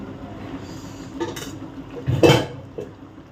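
Fried lentil dumplings (bori) dropped into a pan of fish curry: a few close clinks and clatters of utensil against pan, the loudest burst near the middle, over a quiet cooking background.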